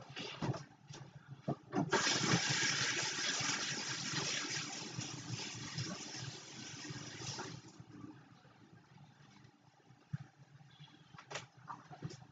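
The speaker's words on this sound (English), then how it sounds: "Let me wash my hands off." Hands being washed under a running kitchen tap, a steady close rush of water lasting several seconds before tapering off, with a few handling clunks around it.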